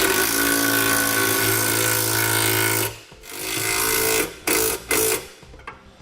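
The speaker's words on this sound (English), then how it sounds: "we can tighten down the bolts and the nuts that secure our steps to the bracket. We'll use a 7/16 socket and wrench for this." A 7/16 socket tool tightens bolts and nuts on a Carr LD custom-fit side step bracket on a 2009 Dodge, buzzing loud and close in a long continuous run and then in a few short bursts.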